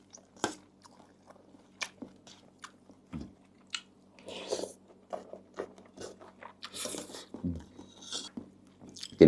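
Fried tilapia is chewed close up, with repeated crunchy bites and wet squishy chewing in an irregular rhythm, with quiet gaps between mouthfuls.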